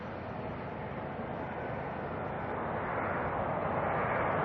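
A Jetstar jet's engines spool up at night at Auckland Airport, a steady, broadband roar that builds gradually in loudness over a few seconds.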